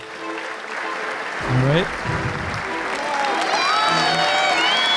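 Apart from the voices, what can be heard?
audience applause at a networking session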